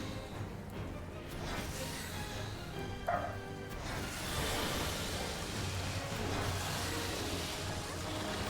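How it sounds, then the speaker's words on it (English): A dog barks a few times in a room corner, faint and somewhat distant, under a steady background hum with soft noise. "the dog got triggered in the corner."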